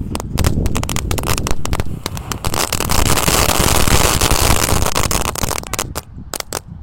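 Two packs of telur dino pretek firecrackers burst together outdoors, a loud dense rapid crackling of many sharp pops that thins to scattered last snaps near the end.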